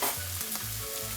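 Vegetables sweat in a hot pan for beef stew with a continuous close sizzling hiss, steady and alone throughout the brief moment.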